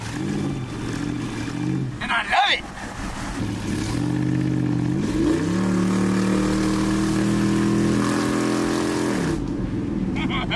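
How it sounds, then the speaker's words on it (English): Donked station wagon engine revving hard with a loud, lumpy throb reminiscent of a Harley-Davidson, pitch climbing and holding under throttle close to the microphone, with someone speaking briefly early on. "my car kind of sounds like a Harley Davidson."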